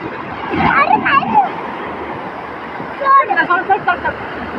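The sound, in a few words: strong sea waves rushing in at the beach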